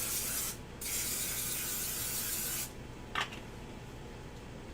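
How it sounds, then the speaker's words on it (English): Aerosol coconut oil cooking spray hisses in two bursts, one long and one shorter, quiet and close, followed by a brief rubbing sound. "I'm going to spray it with coconut oil this morning"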